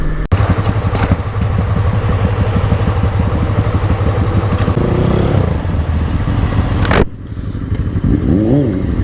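A Yamaha YZF-R3 sport bike is ridden with a continuous loud engine drone mixed with wind rush, dropping off suddenly near the end.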